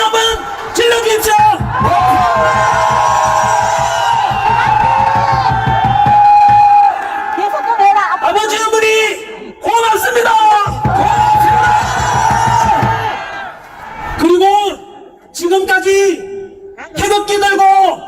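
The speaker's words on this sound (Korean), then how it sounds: "크게 감사합니다. 함성 한번 질러주십시오." A large crowd at an outdoor anti-impeachment rally in Daegu roars, cheers and shouts together in loud sustained bursts, with a sharp amplified voice and a sung chant-like line breaking through between the waves of noise.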